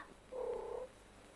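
A cat purrs softly for about half a second, a brief quiet hum with nothing else around it.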